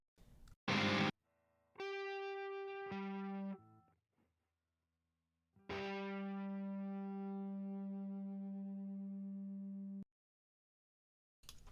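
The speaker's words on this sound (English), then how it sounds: "It is an electric guitar." A clean, unprocessed electric guitar plays a few sustained notes and a chord, each ringing out before fading, with short silences between.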